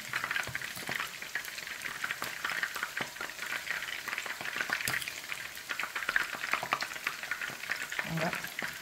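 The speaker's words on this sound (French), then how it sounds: "Et bien mélanger le riz encore." Jollof rice being stirred in a pot, a steady scraping and stirring with light sizzling throughout, close and fairly constant, with faint talk briefly in the background.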